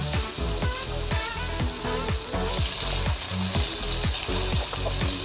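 Potatoes fry in a pan with a crackling, rain-like sizzle as a utensil stirs them, giving rhythmic tapping and scraping knocks throughout, with no voices.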